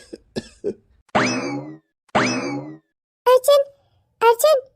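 A father's cough, heard as short harsh bursts early on, followed by drawn-out strained vocal sounds and two later clipped outbursts, all close and fairly loud.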